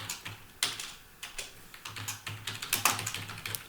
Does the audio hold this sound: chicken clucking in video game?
no